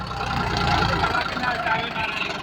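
A new 2025-model tractor engine runs with a steady mid-to-low idling rumble close by, while people talk loudly over it throughout.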